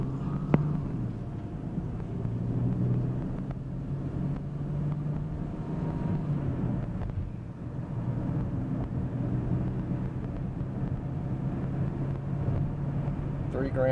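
A 2000 Lexus RX 300 with a freshly swapped transmission cruises on the open road at about 60 mph, giving a steady, close cabin drone of engine and road noise that runs unbroken under occasional talk.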